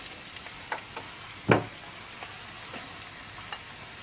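Battered cod sizzles steadily in a hot frying pan, a soft continuous crackle with one sharper spitting burst partway through, close and without talk.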